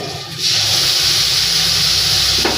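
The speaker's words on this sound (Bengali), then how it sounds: "এখন মশলাটা দিয়ে দেবো" Spices drop into hot oil and erupt in a loud, sustained hiss that holds steady close by for about two seconds, ending in a short splutter.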